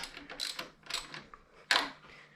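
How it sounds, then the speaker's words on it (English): A ratchet tightens a bolt on an engine belt tensioner, giving close, quick bursts of mechanical clicking in short runs with brief pauses between them. "I'm gonna go ahead and tighten that bolt back up"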